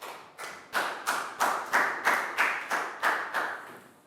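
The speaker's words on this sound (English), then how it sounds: "Big round of applause for down" Steady, rhythmic clapping from a Year 3 maths class rewarding a student, about nine evenly spaced claps, close and moderately loud with no talking.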